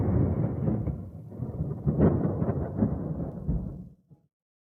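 A thunderstorm rumbles outside, a deep rolling peal of thunder that swells and surges for about four seconds before dying away, with no voices.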